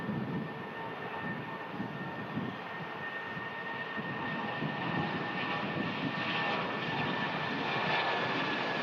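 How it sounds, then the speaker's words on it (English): TUI Boeing Dreamliner pushing back at Manchester Airport, a steady distant jet whine and broadband rumble holding constant throughout. "So we got this TUI Dreamliner pushing back"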